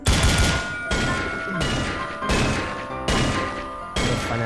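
Gunfire in the Counter-Strike video game crashes out in loud, dense bursts, about five in quick succession, each cut off sharply with almost no pause between them.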